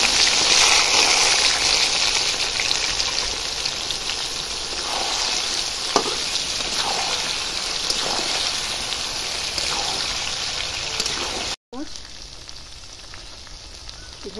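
Mango pieces fry in hot oil for a sweet, sour and spicy mango pickle. A loud, dense, steady sizzle crackles close by, breaks off abruptly, then returns more quietly.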